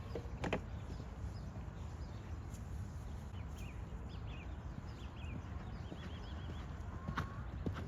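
A horse cantering during a riding lesson: steady, muffled hoofbeats in a continuous rhythm, fairly close, with rustling outdoor ambience and faint birdsong.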